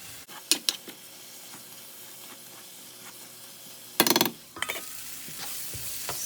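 Paneer curry cooks in a pan with a soft, constant sizzle, broken by scraping stirs and a louder burst of clattering utensil contact partway through.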